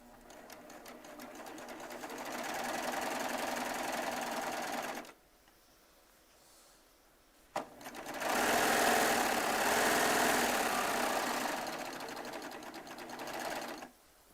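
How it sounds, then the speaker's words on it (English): A Baby Lock Triumph serger runs in two long, fast bursts of steady stitching whir, separated by a quiet pause with a short click, then the motor slows and stops near the end. "Yep, perfect stitches. It's one thing I love about Baby Lock Sergers."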